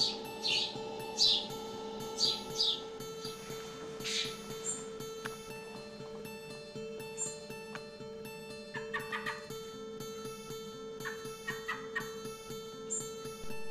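Young fully feathered fledgling birds chirp in short, bright bursts, several calls repeating irregularly over a steady background hum.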